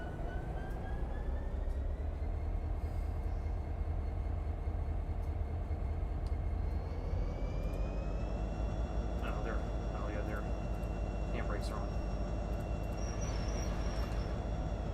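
A diesel locomotive throttles up in the Run 8 train simulator video game, with a steady low engine rumble that rises in pitch and intensity partway through, plus a few faint clanks over the top.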